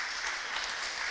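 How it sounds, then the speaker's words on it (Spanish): A church congregation claps together in a dense, continuous burst of applause offered as praise to the Lord, heard fairly faint and brief with no voices over it. "Una ofrenda de palmas al Señor."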